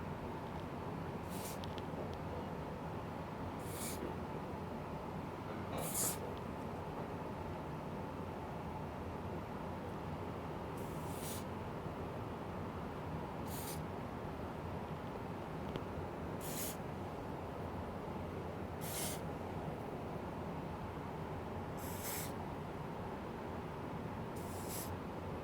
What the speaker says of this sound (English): So I'm going to be spraying.